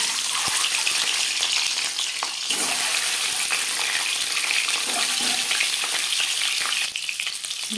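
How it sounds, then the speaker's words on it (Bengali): Eggs fry in four spoonfuls of hot refined oil for an egg curry, sending out a loud, continuous close-up sizzle with crackling spatter and occasional stirring scrapes, and no voices. "4 চামচ রিফাইন্ড অয়েল গরম করে নেওয়ার পর দিয়ে দিলাম ডিম।"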